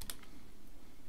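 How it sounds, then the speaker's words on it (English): Quick keypresses tapped on a calculator while working a compound interest maths problem, a few close, soft clicks in a brief burst with no talking. "let's type that in"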